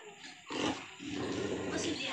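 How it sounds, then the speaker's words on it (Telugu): Dogs close by bark and growl in a couple of short, rough bursts, loud against quiet surroundings at a family home, with a person talking amid the noise. "పోయమ్మనే కుక్కలు నా ఈడు దాకా వచ్చేసినాయి."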